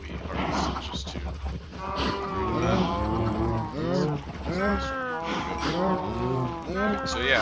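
Several Minecraft cows moo repeatedly in a video game, with long drawn-out low calls overlapping one another at steady volume throughout, close and loud.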